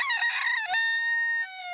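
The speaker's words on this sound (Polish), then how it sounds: "Tak, Peppo, to jest kogut" A cartoon rooster crows on a farm: one bright, strongly harmonic cock-a-doodle-doo, loud and close, rising then holding a long sustained note that drops slightly at the end, heard alone with no voices.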